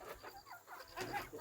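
Farm chickens on a poultry farm clucking in short, soft, broken calls, several birds close by, quiet and brief with no talk.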